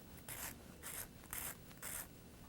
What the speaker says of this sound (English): I like to use a sanding file like this, starting with a coarse grit of sandpaper and moving to finer